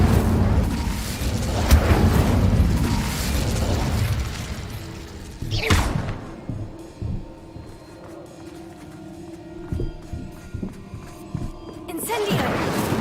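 Fire spell cast in Hogwarts Legacy: a loud whooshing burst of flame with rumbling booms in the first seconds, then a sharp crackle, quieter clatters and another rush of fire at the end.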